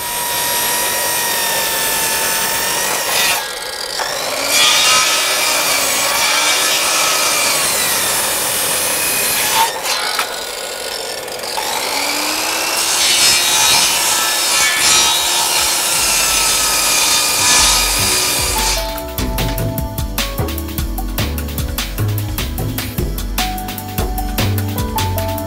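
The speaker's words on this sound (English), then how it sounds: "I've got two circular saws, because I hate walking backwards and forwards with one. Cut all this end, then I'll cut all that end." Circular saws cut through roofing timbers with a loud, continuous whining rip that pauses briefly between cuts. Toward the end a harsher, rattling buzz takes over.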